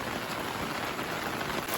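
Steady rain falls in a village in Samahni valley, Azad Kashmir, a continuous soft hiss of drops on surfaces with no voices, even and unbroken throughout.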